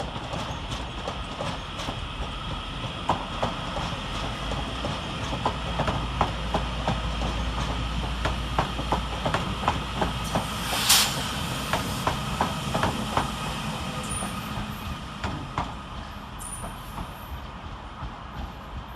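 Northern Rail class 331 electric train pulling into Manchester Piccadilly station, a steady rumble with rhythmic clicking of wheels over track joints and a brief high squeal, continuous and fairly close, no voices.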